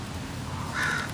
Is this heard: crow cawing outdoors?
yes